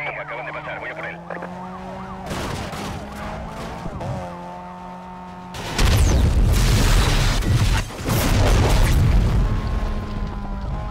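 A gas station blows up in Need for Speed Most Wanted with a sudden, heavy, roaring boom that rumbles for several seconds, preceded and accompanied by wailing police sirens during a chase.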